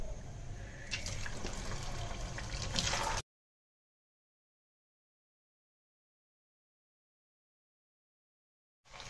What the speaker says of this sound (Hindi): इसमें डालेंगे आलू फिंगर्स फ्राई होने के लिए।